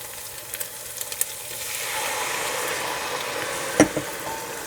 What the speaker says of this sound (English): And now I'm just using that wine to deglaze, scrape up all those bits that are at the bottom of the pot